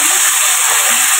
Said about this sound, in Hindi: तो चिकन को हम फ्राई कर लेते हैं अच्छे से